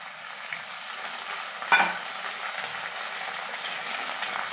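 Ginger, garlic and cumin paste frying in a pan with browned onions and potatoes, a steady close sizzle with one brief louder clatter or stir partway through.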